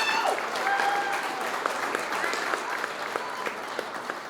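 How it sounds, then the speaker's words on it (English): Steady, dense crowd applause fills a grand opening of the North End Community Center in St. Paul, sustained and fairly even throughout, with a faint voice beneath. "Can we get another round of applause for everyone who works for the city of St."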